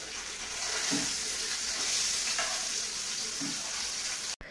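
Fish frying in a pan gives off a continuous close sizzle, with a couple of faint knocks partway through and a brief cut near the end.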